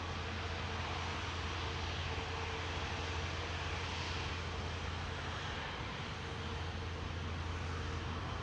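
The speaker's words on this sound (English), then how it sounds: "Finnair A350 in the background, Cathay Pacific in the foreground, the A350 1000." An Airbus A350-1000 jet departing Schiphol Airport produces a steady, broad engine roar at moderate distance, holding constant without speech.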